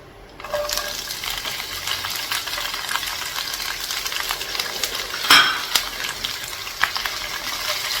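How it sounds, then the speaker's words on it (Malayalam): Small shallots drop into hot oil with dried red chillies for a Kerala moru curry. After a quiet start, a sudden bright sizzle takes over and stays busy, with a few sharp clinks and scrapes of a utensil against the pan. "ഇനി ഉടനെ തന്നെ നമുക്ക് ഈ ചെറിയ ഉള്ളി ഇടാം"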